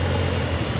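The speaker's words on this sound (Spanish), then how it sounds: "Ahí viene el piloto Juan Martín manejando el tractor." A farm tractor's engine idles nearby in a steady, low, throbbing rumble that is fairly loud and runs unbroken through the short moment.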